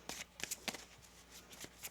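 Tarot cards shuffled by hand in a quiet room, a run of brisk papery riffles and soft slaps arriving in short uneven bursts, close and fairly faint, with no talking.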